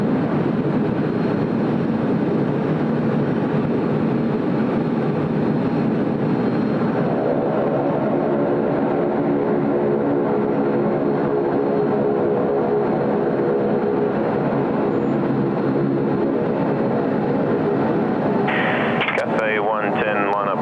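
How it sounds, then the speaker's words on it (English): A Cathay Pacific Airbus A380 rumbles steadily at Sydney Airport, its loud, continuous engine roar filling the whole stretch without letup, while a voice talks briefly over it. "First A380 movement of the show today."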